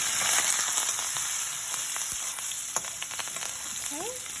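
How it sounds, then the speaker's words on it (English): Rava upma with vegetables sizzling and frying steadily in a pan while being stirred, a continuous close hiss with light scraping and small pops. "Okay, let's stir"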